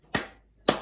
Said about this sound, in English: Let's clap first.